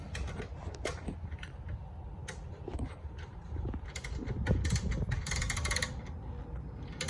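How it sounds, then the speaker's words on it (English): A hydraulic jack lifting a BYD Atto 3 on level ground while fitting a space saver spare wheel, giving faint mechanical clicks and creaks in a steady series over low background noise, with no talk. "So we'll start jacking it up."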